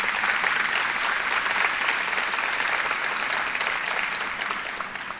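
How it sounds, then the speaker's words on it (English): An audience applauds school district employees at a public meeting in Richland, Washington, dense continuous clapping from many people that stays fairly even and fades slightly toward the end. "If you could clap for them, I would really appreciate it"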